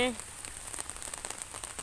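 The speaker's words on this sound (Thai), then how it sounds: "ฝนตกเนาะ" Rain falls steadily on a surface, a dense patter of drops with small crackling splashes, close and continuous after a brief voice at the very start.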